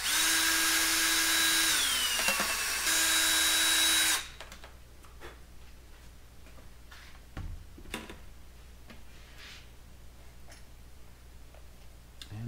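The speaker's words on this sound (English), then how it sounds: "Drilling another hole for a shear pin." A power drill bores a hole for a shear pin in a rocket nose cone, a loud high whine for about four seconds with a brief pause, then quiet handling clicks and taps.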